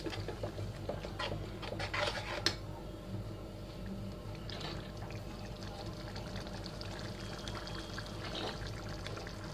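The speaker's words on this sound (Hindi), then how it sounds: "इसमें पानी डालेंगे" Water poured into a pan of Hyderabadi green chilli gravy, a soft continuous splashing and trickling with a few louder bursts early on, fairly close and without talk.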